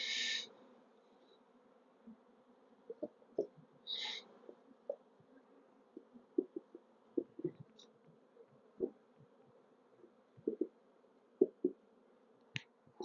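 Honeybees at an opened hive during inspection of a once-abandoned colony, a faint low buzzing hum beneath scattered knocks and handling clicks, with a few brief louder sounds nearby.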